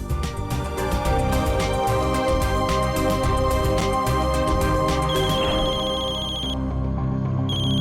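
A telephone ringtone plays loudly and continuously as a melodic electronic tune, cutting off abruptly near the end.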